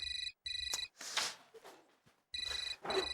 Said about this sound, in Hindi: फोन बार बार डिस्टर्ब कर देता है